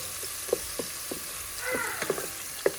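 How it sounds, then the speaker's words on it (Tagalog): Ingredients for tortang talon sauté in a pan with a steady sizzle, punctuated by a handful of sharp utensil knocks and scrapes as they are stirred. No voices are heard. "So, igisa natin. Halo-haloin."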